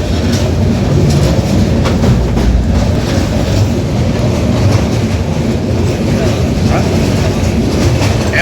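Passenger train running at speed on the Kolkata to Benaras line, heard from inside as a loud continuous rumble with rhythmic wheel clatter throughout, steady and close.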